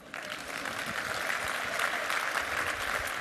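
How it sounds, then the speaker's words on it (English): Keynote conference audience claps for themselves, a dense, continuous round of applause from a large crowd filling the room with no speech over it. "So clap yourselves up."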